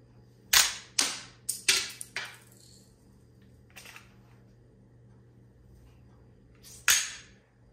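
Slide of a Smith & Wesson M&P 2.0 pistol with a 13 lb guide rod upgrade racked and locking back: a quick cluster of five crisp metallic clacks up close, one softer click, then a final sharp clack after a pause.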